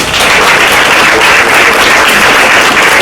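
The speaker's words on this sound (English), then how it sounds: "let's give a round of applause" A lecture audience at Norwalk Community College breaks into loud, dense applause, continuous clapping from many hands that holds steady and close throughout, with no talking over it.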